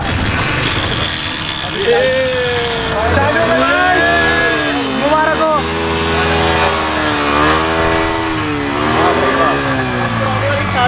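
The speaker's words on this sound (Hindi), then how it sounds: "इस बाइक को स्टार्ट करने की कोशिश, जो काफी हद तक सफल भी होती दिख रही है" A Yamaha FZ motorcycle engine, restored and being started, revs and rises in pitch, rumbling loudly and up close as it is throttled repeatedly, with voices heard over it.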